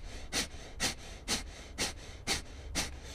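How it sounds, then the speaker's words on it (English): Fire breath exercise: six sharp, evenly spaced bursts of air forced out through the nose, about two per second, close and quiet, with no talking. "Fire breath goes through short bursts of air through your nose"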